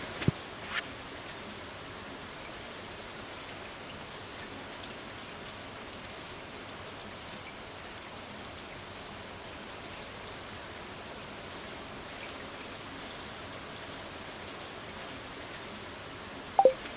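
Steady, soft rain falls continuously in the Stardew Valley farming game, a quiet even hiss throughout with a couple of brief clicks near the start and end.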